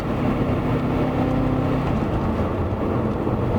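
BMW F10 M5 engine pulling hard under acceleration between 3,000 and 6,000 rpm, a loud, steady, close-up drone with no voices.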